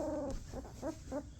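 Two-week-old Belgian Malinois puppies let out about four short, high, whiny growls and whimpers close by, spaced roughly a third of a second apart against a steady low background.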